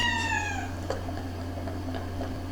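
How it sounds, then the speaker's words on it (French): A domestic cat crying to go outside gives one clear, drawn-out meow at the start, close and fairly quiet, followed by a soft background hum. "les chats pleurent pour sortir"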